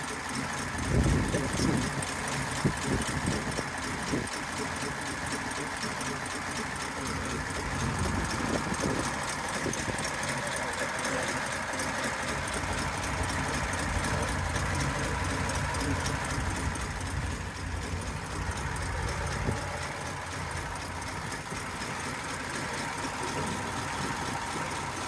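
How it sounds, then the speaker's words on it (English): A 1948 Ford 5-window custom coupe's flathead V8, fitted with a cam and Edelbrock heads, idles steadily with a low, even rumble and a faint knock throughout, with no talking over it. "Motor runs real nice."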